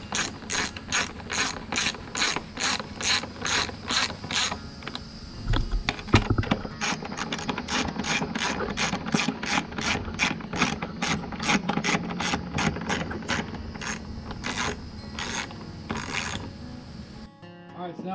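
A ratchet torques down a spark plug on a 2017 Suzuki 300 HP outboard, producing long runs of crisp, evenly paced pawl clicks in repeated bursts, close up and fairly quiet.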